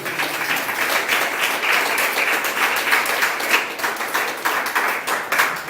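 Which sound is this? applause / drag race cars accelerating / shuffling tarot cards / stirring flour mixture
applause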